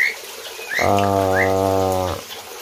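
Birds in an aviary give a long, steady harmonic call lasting over a second, loud and close, after a few short high chirps from other birds.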